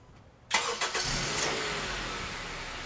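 A car engine cranks and catches after a remote start command from a Viper Smart Start system, then settles into a steady idle, close by and alone with no talk.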